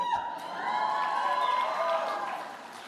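A crowd at a Faith and Freedom Coalition political event cheers and applauds in a loud sustained swell that rises and then fades over a few seconds, heard close and alone.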